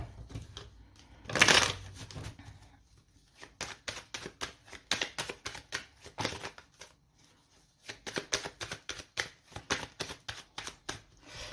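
Tarot cards being shuffled and laid out, with a sharp riffle burst early on, then long runs of quick, close snapping flicks and taps broken by short pauses, with no talk.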